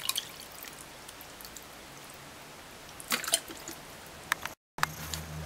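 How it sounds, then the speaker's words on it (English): Water splashes and trickles over cut turkey neck pieces being rinsed in a kitchen, a soft steady wash with a few brief louder sloshes near the end, close and alone without talk. "So after you cut the turkey neck to pieces, add water. We're gonna rinse it."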